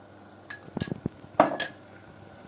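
A spoon drops a lace-like batter mixture onto a frying pan in a home kitchen, making a few sharp, close metallic clinks and taps spread over a couple of seconds with quiet gaps between and no talk.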